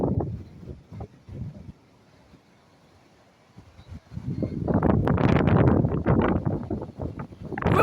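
Strong damaging wind gusting outdoors ahead of a storm, with faint intermittent buffeting at first, a quiet lull, then a loud sustained roaring gust hitting the microphone.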